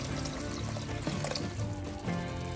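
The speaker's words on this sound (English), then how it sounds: "I'm going to put in some water and I'm going to allow it to cook" Water pours steadily into a pot, a close, continuous splashing fill lasting a couple of seconds.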